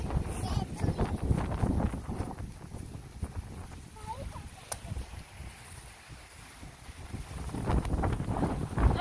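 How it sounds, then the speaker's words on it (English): Gusty wind buffets the microphone in a steady roar, with faint voices and rustling underneath. "So windy."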